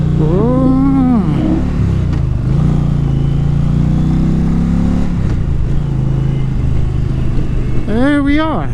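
Engine of a 2020 Indian Challenger motorcycle while riding, a loud steady rumbling drone with rising revs at the start and end, heard close up under a rider's talking and wind.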